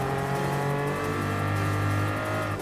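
Pagani Huayra mid-engine hypercar in Gran Turismo Sport, its engine holding a loud, steady, dense howl under throttle throughout, with no talking.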